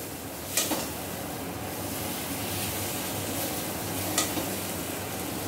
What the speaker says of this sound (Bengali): মশলাটা পটলের সাথে ভালোভাবে মাখিয়ে একটু সময় কষিয়ে নেব